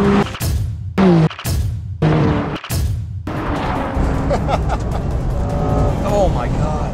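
A Corvette and a Porsche 992 Carrera S accelerating hard off the line in a drag race, engines rising through gears with sharp shift breaks, loud and close from the car, with excited talking over it.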